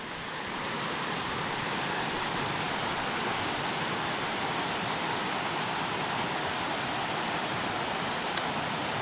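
Hazel Creek running high past a campsite, a constant broadband rush of fast-flowing water, steady and enveloping with no breaks, heard close and alone.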